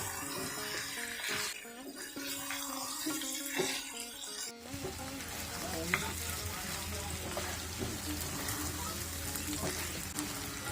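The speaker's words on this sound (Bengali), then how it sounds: "এখন আমি শুধু নাড়াচাড়ার উপরেই থাকবো কিছুক্ষণ পর পর ভালো করে একটু নেড়ে ছেড়ে দেবো যেন নিচে লেগে না যায়" Beef kala bhuna fries in hot oil while being stirred with a spatula, a steady sizzle that thickens after a few seconds, with scraping strokes and clinks against the pan throughout.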